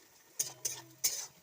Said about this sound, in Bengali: চলো পেঁয়াজটা ভাজা হোক ঠিক করে,